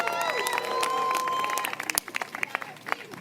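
A rally crowd applauds and cheers for Governor Kathy Hochul, a dense wash of clapping and shouts that thins into scattered claps.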